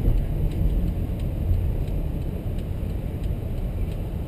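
A 2011 Chrysler 200 rounds a corner, its engine and tire roar a steady low rumble heard from inside the cabin, with no talking.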